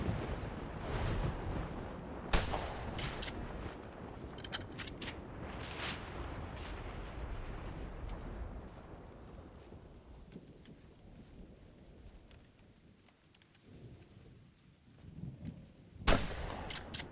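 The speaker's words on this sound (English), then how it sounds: "The gun is also loud in my ear." Gunfire in theHunter: Primal, with several sharp, loud shots standing out over a dense, roaring rain and wind bed, one near the start and another near the end.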